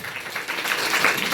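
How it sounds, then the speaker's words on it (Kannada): Applause rises from an audience of children and guests at a program for differently-abled children, a short burst of clapping that swells and holds for over a second. "ವೆರಿ ಗುಡ್, ಚಪ್ಪಾಳೆ ಇರಲಿ."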